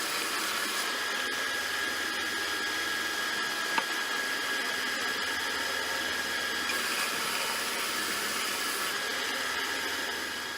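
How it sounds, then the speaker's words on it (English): A sander runs with a steady, loud whirring hum while a small wood block is pressed against it. The grinding tone holds evenly throughout, with one brief tap partway through. "I'm going to put it onto the sander, and I'm going to try and keep sanding it"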